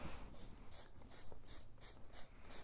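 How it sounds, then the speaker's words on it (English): Short bursts of aerosol repellent spray hiss in a steady rhythm, about seven quick puffs, close by over a faint background rumble. "But I will keep spraying it"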